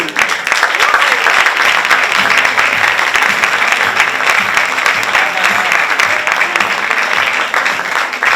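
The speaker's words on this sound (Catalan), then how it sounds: "Un fort aplaudiment per tots i totes, els participants i les participants." Loud, dense audience applause fills a theatre hall at the gala of an amateur theatre competition in Calella, a continuous roar of clapping sustained throughout with crowd noise mixed in.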